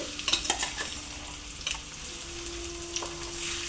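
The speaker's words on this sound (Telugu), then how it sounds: "ఇప్పుడు మనం ముందుగా కట్ చేసి పెట్టుకున్న ఆనియన్స్ని వేసుకుందామండి" Chopped onions frying in hot oil for a Godavari-style koramenu fish curry make a steady, moderate sizzle close by, with a few quick stirring scrapes early on and no voices.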